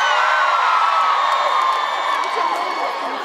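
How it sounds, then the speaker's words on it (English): A festival crowd at a concert in Warsaw screams and cheers loudly and continuously, a dense wall of high-pitched shouting that fades slightly toward the end. "How many people are just screaming to scream?"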